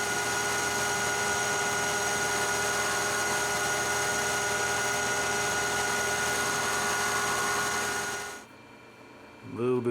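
Steady, loud metal lathe facing cut, with chatter at high spindle speed and a slow feed, a dense continuous machining roar that holds for about eight seconds and then stops abruptly, followed by a brief voice.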